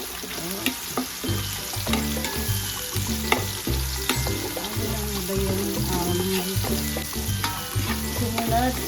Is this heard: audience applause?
no